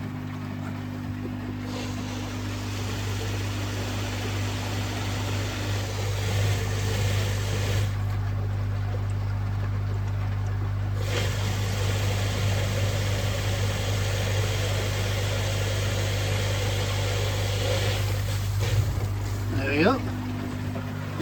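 A dry-fed koi pond pump runs with a steady, low, continuous hum once its valve is opened, holding even for the whole stretch with faint background noise and a brief chirp near the end.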